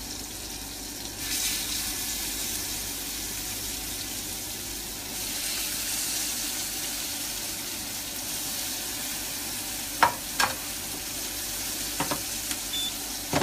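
Vegan burgers frying in oil in a pan, a steady moderate sizzle that swells when they go in, followed by a few sharp clinks of utensils near the end.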